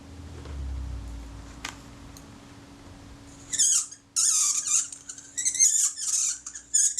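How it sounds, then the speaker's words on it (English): A metal retainer ring being screwed onto a dry thread of a Kodak Retina Reflex camera, close and small, giving a run of thin, scratchy squeaks and ticks in short bursts after a quieter opening. "That's the sound of a dry thread."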